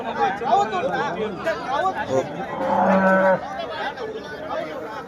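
Cattle moo at the Karungalpalayam cow market in Erode, with one long, close moo and a few others rising over the steady chatter and babble of a crowd.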